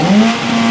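A formula race car engine holds a loud, steady high-RPM rev for under a second, its tone rising slightly at the start, with no voices.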